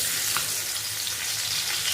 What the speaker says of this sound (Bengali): এবার এটা একটু ভাজা ভাজা করে নেব।